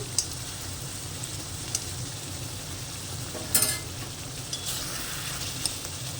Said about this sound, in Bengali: দিয়ে দিলাম এক হাফ চামচ ঘি ঘিটা দিয়ে একটু নাড়াচাড়া করে নেব